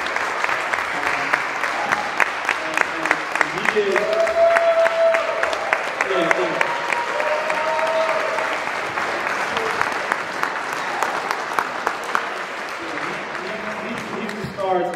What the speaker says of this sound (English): give a round of applause to Dr. Fulmore